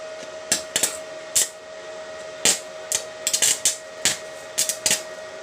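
Irregular metallic hammer strikes on a motorcycle swing arm being reinforced ring out one after another, sharp and fairly close, over a faint steady hum.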